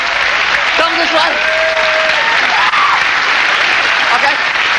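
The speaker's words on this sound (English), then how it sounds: "A big round of applause, please, for this woman sitting here." Studio audience applause on a 1986 live TV variety show, steady loud clapping filling the room throughout, with a voice speaking over it briefly.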